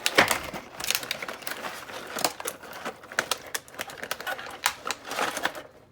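A cutting tool slices open the plastic and cardboard packaging of a Masters of the Universe Origins Stridor toy, a close series of sharp, irregular snaps, crinkles and cracks with no voices.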